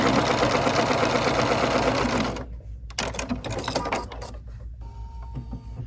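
A sewing machine stitches a quilt block seam, running loud and fast for about two seconds, then stopping and restarting in shorter mechanical bursts close by.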